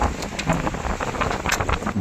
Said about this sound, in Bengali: বাতাসের গর্জন শুনতেই পাচ্ছেন, সেই সাথে সমুদ্রের ঢেউ